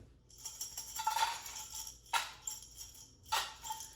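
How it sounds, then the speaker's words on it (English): Small hard pieces of dried mango rattle and tumble inside a glass jar in a few quick shaking bursts, fairly quiet and close. "every day you should shake the jar"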